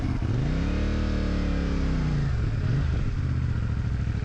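A CF Moto 450 MT motorcycle with an air filter clogged with mud revs up and then drops back, the engine sounding sluggish and slightly choked, loud and close, settling into a rough idle.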